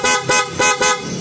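Bristol ADX160 car horn set to loud mode, blasting four loud, evenly spaced honks in a steady rhythm, each short blast separated by a brief gap.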